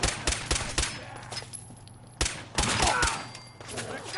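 Gunfire in Fallout 4: sharp bursts of shots in quick clusters, then a lull and another loud volley, close and punchy, with faint talk in the background.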